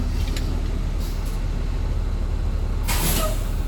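A bus air brake hisses in a sharp, loud burst of released air near the end, after a steady engine rumble with a softer hiss earlier, heard during an interior pre-trip brake test.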